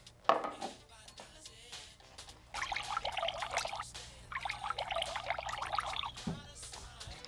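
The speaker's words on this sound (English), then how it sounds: "Pour some water into 2 identical glasses." Water pours in two separate bursts, a bright splashing trickle filling each of two identical glasses, preceded by a few light clinks.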